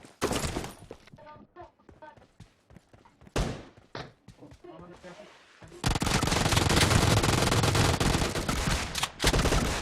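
Gunfire in the mobile battle royale game PUBG Mobile: scattered shots under excited talk at first, then a sustained loud burst of rapid automatic fire filling the second half.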